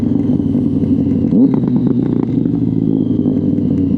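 Motorcycle engine running loud and close with crackling exhaust pops and bangs, a burst of sharp clatter near the middle over a steady rumbling drone.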